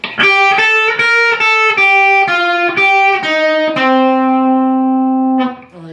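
An electric guitar plays a measure of a riff with a slightly distorted tone: a quick run of about ten picked notes, some bent, ending on a longer sustained low note, loud and close with no voices.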